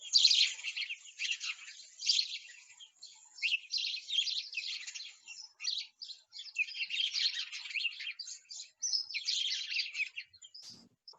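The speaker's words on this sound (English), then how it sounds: "if you've ever walked past a hedge and it's singing like a bird or cheeping like a bird, like a pet shop, that's the house sparrow." House sparrows cheep and chirp continuously in a busy, overlapping chatter of short, bright notes, fairly close, like a hedge full of birds, with no voices.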